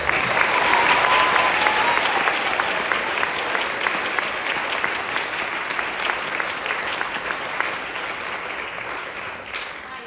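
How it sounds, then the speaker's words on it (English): Sustained audience applause at a spring band concert, a dense, steady wash of clapping that holds at full strength for the whole stretch with no talk over it. "Would you give them a round of applause, please?"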